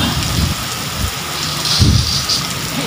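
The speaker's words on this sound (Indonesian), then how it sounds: "Tengah jalan hujan turun." Heavy rain pours steadily while sheltering in front of a shop on a Saturday evening, a dense continuous wash with brief low rumbles that could be distant thunder or passing traffic.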